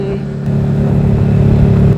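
Steady, close engine drone from a Yamaha R15 V3 motorcycle fitted with a Daytona Evolution exhaust, a low constant rumble at idle with a slight swell partway through, no voices.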